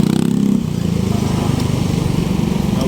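A motorcycle engine putters steadily and loudly up close on a Manila road as one bike tows another that ran out of fuel, a continuous chugging drone with no pauses.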